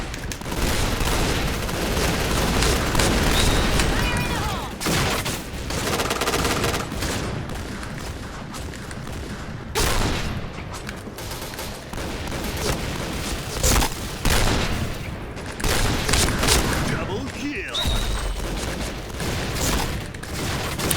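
An M1014 shotgun fires in the Point Blank video game as dense, loud bursts of gunfire with booming blasts, repeated throughout with short breaks between volleys.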